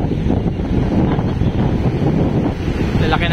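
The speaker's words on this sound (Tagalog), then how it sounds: "Muugong yung dagat ah." The sea roars at Amper Beach in Dipaculao, Aurora, as Typhoon Opong brings heavy rain, with a constant low rumble of surf mixed with gusting wind buffeting the microphone.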